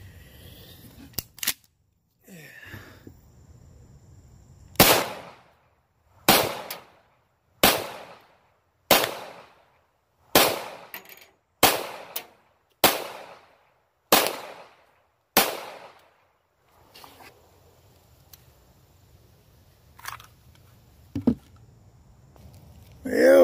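A series of about ten sharp, loud gunshots fired into a worn bullet trap box outdoors, evenly spaced roughly a second and a half apart, with faint background noise between shots and a few scattered later reports.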